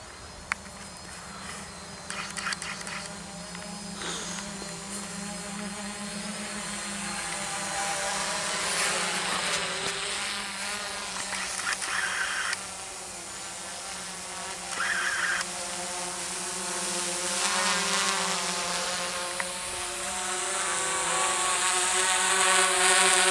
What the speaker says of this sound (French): le drone qui est programmé pour monter